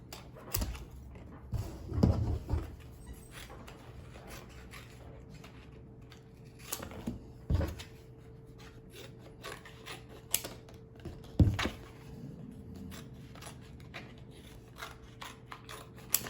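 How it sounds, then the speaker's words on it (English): Pieces of a breakfast scramble dish being cut into smaller pieces, giving a few soft, separate cutting and tapping sounds close by over a quiet room, with no talking. "I'm gonna cut each of these pieces into other pieces"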